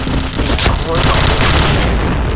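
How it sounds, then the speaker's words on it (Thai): Loud explosions and gunfire burst through a competitive Point Blank match at an e-sports event, a dense, continuous roar of blasts lasting a couple of seconds with voices talking over it. "โอ้โหระเบิดมากเลย"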